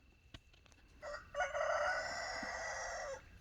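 A hen lets out a drawn-out, squawking call lasting about two seconds, loud and close, after a few faint clicks in otherwise quiet surroundings.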